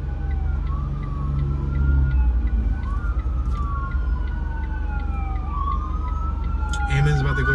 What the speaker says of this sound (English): Ambulance about to go by.